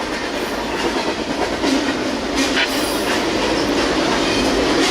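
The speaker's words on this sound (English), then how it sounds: "This train is motoring, Jack." A fast CSX freight train rolls past a grade crossing, its cars rattling and bouncing in a steady, loud, continuous roar with clattering wheels and brief metallic squeal, no voices over it.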